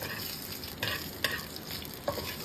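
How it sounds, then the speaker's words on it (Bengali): White cumin seeds and dried red chillies sizzle in hot oil as a tempering for dal, with a steady frying hiss and a few sharp scrapes of stirring, close and moderately quiet. "ওই ডালের মধ্যে ফোড়ন দেবো নাকি সাদা জিরে দেবে"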